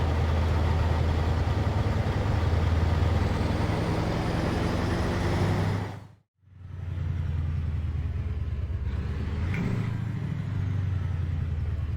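Mack ENDDT865 diesel truck engine in American Truck Simulator gives a steady low rumble, cutting out briefly midway before returning as a quieter coasting drone with a slight rise near the end.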